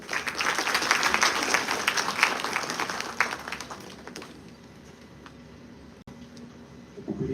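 Audience applause welcomes a speaker at a law and AI congress at the Delhi High Court, dense clapping for about four seconds, then tapering into quiet room tone with a few stray claps.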